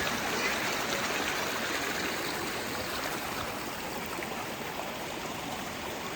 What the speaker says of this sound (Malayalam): ഈ വെള്ളം നേരെ താഴേക്ക് പോവാണ്.